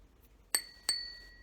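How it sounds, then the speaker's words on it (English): A ruby flashed drinking glass tapped three times, each strike giving a bright clink with a sustained ringing tone that lingers between taps, close and clear with no talking. "not a very good ring to it, I suppose. This is a ruby flashed drinking glass"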